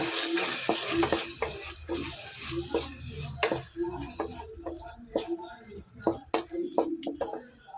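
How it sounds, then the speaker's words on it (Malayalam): Garlic ginger paste sautéing in a pan for squid roast, with soft sizzling under repeated scraping and clacking strokes of a stirring spoon, fairly close and moderately quiet. "പച്ചമണം മാറുന്ന വരെ വഴറ്റി ഇളക്കിക്കൊണ്ടിരിക്കും"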